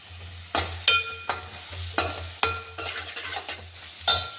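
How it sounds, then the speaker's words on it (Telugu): Onions and turmeric frying in a pan, a close steady sizzle broken by repeated sharp scrapes and knocks of a stirring spoon about every half second, with no voices. "ఉల్లిపాయలు వేగుతున్నప్పుడే కొంచెం పసుపు ఉంది కదా,"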